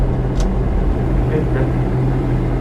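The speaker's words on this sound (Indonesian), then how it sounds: "akselerasinya kayak bis lah, nggak kenceng tapi ada terus tenaganya" A car accelerating on a test drive gives a constant low engine drone and road rumble from inside the cabin, steady and fairly loud with no distinct shifts or bursts.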